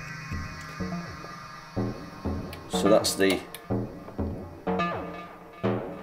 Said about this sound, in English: It's a little percussive loop, so I've put that in on the step sequencer here.